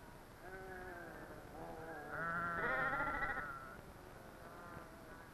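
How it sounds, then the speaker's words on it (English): Several sheep bleat in overlapping wavering cries in a Mexican village, one louder call rising in the middle, against faint outdoor background noise. "like my friend Alfredo, have flocks of sheep."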